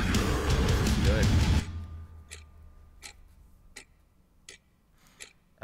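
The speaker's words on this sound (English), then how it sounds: "I like the clock ticking." A clock-ticking effect in a song: loud music cuts out, leaving sharp, evenly spaced ticks that repeat alone over a faint low hum.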